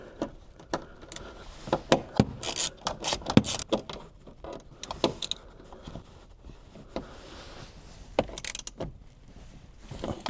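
Socket wrench ratcheting as it tightens a battery bolt on a Porsche Cayenne, a close, quiet series of sharp metallic clicks in irregular bursts.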